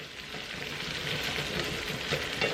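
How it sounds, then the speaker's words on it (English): Corn dusted with flour fries in a pan, giving off a steady, close hiss and crackle while it is turned and stirred, with no talking. "you let it simmer down, you take it, kind of flip it over, stir it up a little bit"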